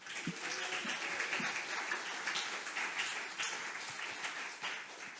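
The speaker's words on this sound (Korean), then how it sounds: "힘차게 박수 한번 합시다" Sustained, enthusiastic applause from a crowd, dense clapping holding steady for several seconds.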